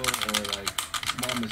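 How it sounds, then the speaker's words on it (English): Typing on a mechanical computer keyboard, a quick run of crisp clicking keystrokes under a person talking nearby. "I got this really cool mouse and keyboard, and just listen."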